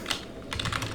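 A short burst of quick keystrokes on a computer keyboard while code is typed, close and crisp, a few clustered clicks with no voice over them.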